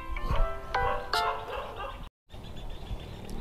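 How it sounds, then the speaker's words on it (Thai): Dog barking in a few sharp yips and barks, close and fairly loud, with a voice talking around them. "น้องเห่าอะไรคะ"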